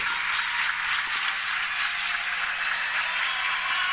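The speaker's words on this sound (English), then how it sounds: "One of the matches just concluded, so that's the applause you're hearing" Steady, dense applause from a crowd at a high school girls tennis championship after a match ends, continuous and fairly loud throughout without a break.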